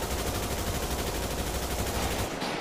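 Dense, rapid video game gunfire rattles continuously at close range, a sustained automatic burst that cuts off abruptly near the end.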